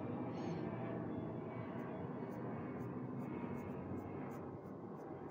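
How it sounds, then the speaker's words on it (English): An airplane passes overhead as a steady, broad droning rumble that fills the whole clip at an even loudness, with no clear voices. "Let's wait till that plane pass."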